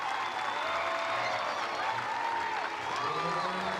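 Softball crowd at a Florida Gators home game against Mercer cheers and applauds steadily after a two-run home run to center field, a dense, continuous roar of clapping with a commentator's voice over it.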